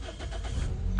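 Toyota Corolla engine idles with a rough, close mechanical rumble, then cuts off abruptly near the end of a very short stretch.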